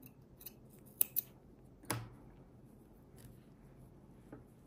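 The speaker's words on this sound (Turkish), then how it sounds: "Yine bu ipimi keseceğim." Scissors snipping yarn during crochet bag making: a few quiet, sharp metallic clicks, two close together and then another, in an otherwise hushed room.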